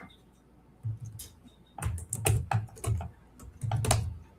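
Clusters of keystrokes on a computer keyboard as a website address is typed into a browser, quick uneven taps in several bursts with short pauses, close and fairly quiet, no talking.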